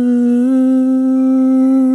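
A voice imitates eerie humming coming from inside a toilet, one sustained steady hummed tone, close and loud, alone.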